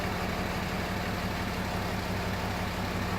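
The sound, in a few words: flat back differential ring gear spinning at 5 mph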